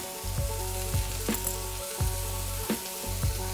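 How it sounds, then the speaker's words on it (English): Mushrooms searing in oil in a very hot pan, a loud close sizzle broken by repeated scrapes and knocks of a utensil at a steady rhythm over a persistent hum. "You want a hot pan for your mushrooms because you want a hard sear."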